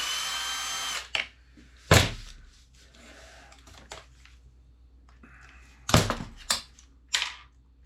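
A power drill unscrews nuts on a Vanquish Phoenix RC crawler after a bad fall, in several short, sharp whirring bursts close up, separated by quiet gaps and small clicks of handling.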